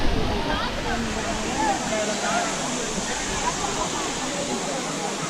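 Lakkom waterfall in Munnar, Kerala roars as a loud, continuous rushing wash of falling water, heard close and steady throughout with no clear talk.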